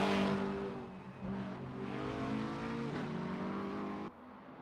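DTM race cars lapping Istanbul Park in a racing game, engines droning loud and steady with harmonic whine shifting as they accelerate, then dropping abruptly near the end.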